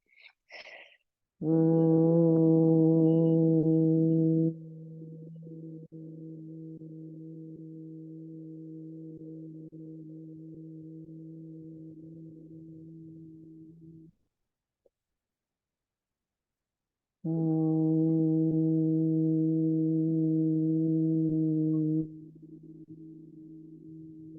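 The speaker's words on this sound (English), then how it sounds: "humming with this and feeling the vibration of the sound in your hands" A person hums in long sustained tones with the breath, a steady resonant drone that swells in loud bursts, softens, falls silent briefly, then returns strongly; no talking.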